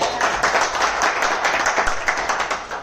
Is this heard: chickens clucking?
no